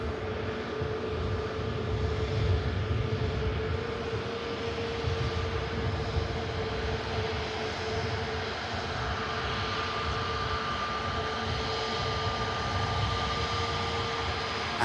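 An EasyJet airliner arriving at Manchester Airport in from Enfidha, its engines giving a steady, broad roar with a faint whine that holds loud and unbroken throughout, no one speaking over it.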